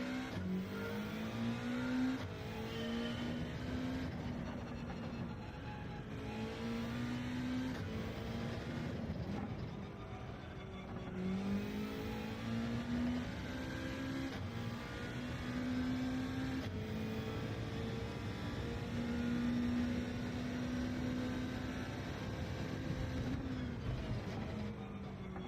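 Mitsubishi Lancer engine in the racing game Gran Turismo 7, a steady droning whine with shifting pitch as it accelerates and shifts through gears, continuous and fairly loud throughout with occasional tire noise.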